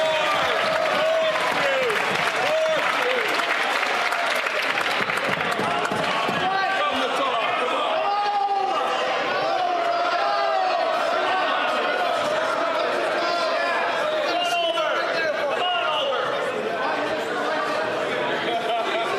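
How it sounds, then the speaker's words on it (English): Members of the Canadian House of Commons boo and jeer during Question Period, a sustained loud roar of crowd noise with chatter and voices mixed throughout. "He is getting booed right now"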